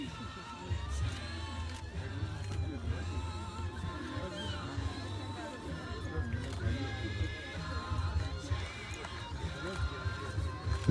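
A horse whinnies repeatedly at an equestrian club's children's award ceremony, with hooves clopping, a crowd murmuring and cheering, and an announcer talking over a steady low hum.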